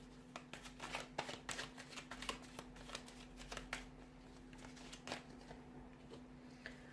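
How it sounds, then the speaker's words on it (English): Tarot cards shuffled by hand in a quiet room, a steady run of soft riffling flicks and taps lasting several seconds, faint and close, with no talking. "So I'm going to give the cards a shuffle"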